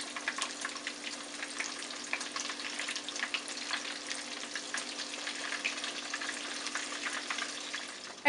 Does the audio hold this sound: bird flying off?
no